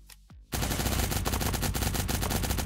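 Rapid automatic gunfire erupts in the online shooter game Cyber Hunter. A short electronic swoop comes first, then a dense, loud, continuous burst of shots that rattles on without pause.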